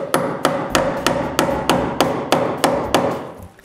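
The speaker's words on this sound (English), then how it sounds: "So I begin by nailing all the electrical wires to the structure." Hammer blows drive nails to fasten electrical wires against the wall framing of a new shop before insulation goes in: about ten sharp, evenly spaced strikes roughly every third of a second, loud and close with no talk.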